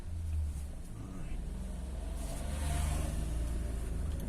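A Lada Vesta car pulls away with a steady low engine rumble that builds slightly, heard from close by inside or beside the car, with no talk over it.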